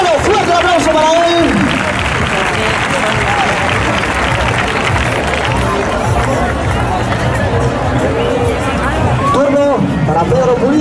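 A crowd claps and cheers loudly throughout, with an excited announcer's voice shouting over the applause.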